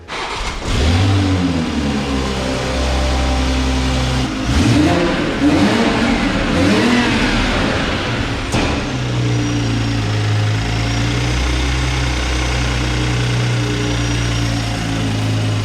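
A Toyota Supra engine with an upgraded intake and downpipe cranks and starts, then revs up several times with rising and falling roars before settling into a steady idle close by.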